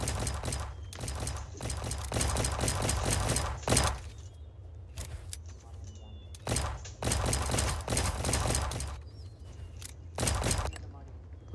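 Gunfire in the Roblox game Jailbreak, bursts of rapid shots in clustered volleys separated by short pauses, loud and close over a constant game background.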